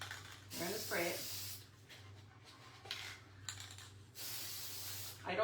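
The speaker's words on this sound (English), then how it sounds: "Mod Podge spray is your friend for rust." Mod Podge aerosol spray can sprayed indoors in bursts of hissing, with a steady fan hum beneath and a brief voice early on.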